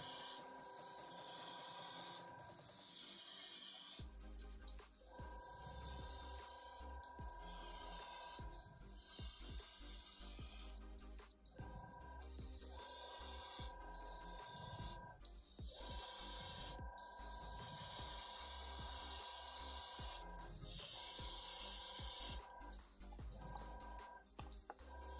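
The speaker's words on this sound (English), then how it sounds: "priming and painting with an airbrush can be very relaxing as long as everything is functioning properly" Airbrush spraying paint onto a black drow miniature for a Dungeons & Dragons painting session, a steady airy hiss that starts and stops in repeated bursts over a constant background hum, close and fairly loud with no talking.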